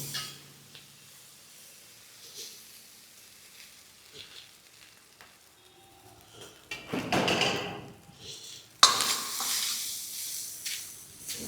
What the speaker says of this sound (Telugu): ఇప్పుడు రైస్ వేసుకుందామండి.